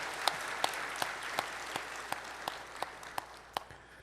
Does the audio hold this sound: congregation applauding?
yes